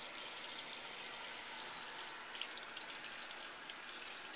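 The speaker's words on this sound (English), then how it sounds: "I'm going to turn on the water to a comfortable temperature." Water tap running at a sink for hand washing before a vital-signs examination, a steady close hiss of flowing water with a few brief splashes midway and no talking.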